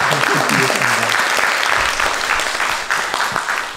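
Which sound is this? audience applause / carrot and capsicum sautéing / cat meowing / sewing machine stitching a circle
audience applause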